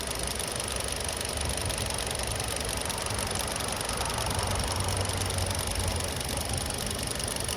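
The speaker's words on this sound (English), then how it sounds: "It's a 2-liter engine now, produces 147 horsepower." A 2021 Hyundai Elantra Limited's 2-liter, 16-valve, 147-horsepower engine idles close by, a steady, even constant low rumble with a faint rattle and no talking.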